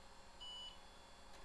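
A single brief, high electronic POST beep from an IBM PS/2 computer rises over a faint, steady machine hum.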